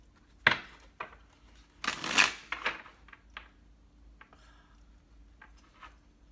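A deck of tarot cards is shuffled by hand in a quiet room, giving a few quick crisp riffling bursts, with one louder longer shuffle and softer card handling after it.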